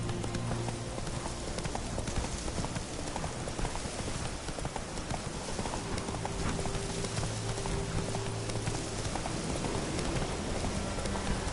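Roach the horse gallops in The Witcher 3, hooves clip-clopping in a steady, continuous rhythm across the whole stretch, loud and close, with a rain-like hiss of ambience underneath.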